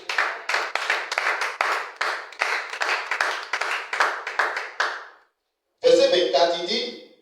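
A church congregation claps in a steady, rhythmic beat for several seconds, then stops briefly before voices rise, singing or shouting together in the room.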